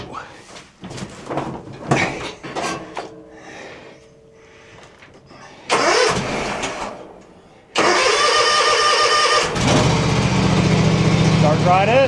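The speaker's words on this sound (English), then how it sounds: "So we're going to see if she'll start right up" An old lawn mower engine starts in a cramped garden shed. A voice talks over handling noises first, then a brief pull and sputter, and finally the engine catches into a loud, steady, close running roar.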